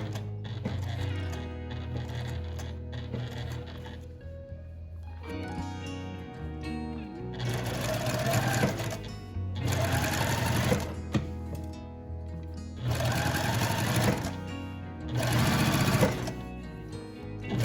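A domestic sewing machine puts in a concealed zipper in a dressmaking class, sewing in short repeated bursts of a few seconds each with pauses between, heard up close and alone.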